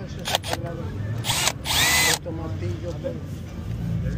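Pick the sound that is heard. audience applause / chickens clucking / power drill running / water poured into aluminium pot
power drill running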